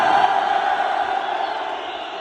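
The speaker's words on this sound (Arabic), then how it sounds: "اجواء مشتعله بين الجماهير المصريه والجماهير العسكريه" Football fans roar in a stadium during a Moroccan throne cup semi-final between AS FAR and Maghreb de Fès. A loud, dense crowd noise swells at first and then eases gradually, with no clear speech.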